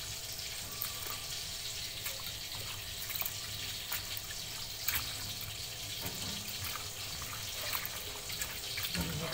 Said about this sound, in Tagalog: Hugasan lang po ng mabuti gaya po ng banggulay.